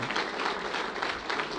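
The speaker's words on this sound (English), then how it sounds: "let's go ahead and give a big applause to Professor Asmarom" Audience applause at a community conference gathering, a steady wash of many hands clapping, moderately loud and continuous with no talking over it.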